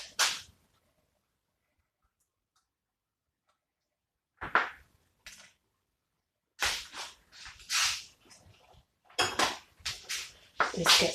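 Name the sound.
knife scraping food, dishes clattering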